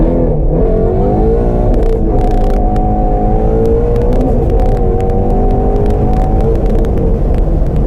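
A Shelby GT350 engine revving hard from about 4,000 RPM, loud and close inside the car, a continuous throaty roar whose pitch climbs and holds with slight wavering.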